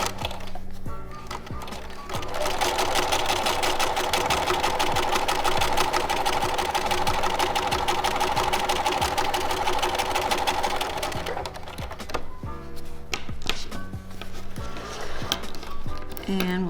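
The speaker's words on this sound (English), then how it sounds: "just sew straight following the first stitch line" A sewing machine stitches a welt seam on heavy denim. After brief handling noises, its rapid, steady motor hum runs for about nine seconds, then stops, followed by faint clicks and fabric rustle.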